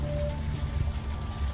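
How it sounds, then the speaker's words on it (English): Rain falls in the adventure video game Unavowed as a steady, soft hiss of drops on a surface, continuous and even with no talk over it. "Still raining."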